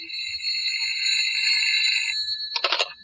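An old-style telephone rings with a steady, bright electric bell tone for about two seconds, then a short harsher rattle of the bell follows, in an old-time radio drama.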